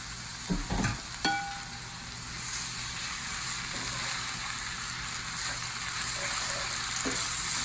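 Pasta is stirred into a pan of sizzling asparagus and shrimp, a constant close sizzle with a few scraping clatters of the utensil near the start, then an even frying hiss.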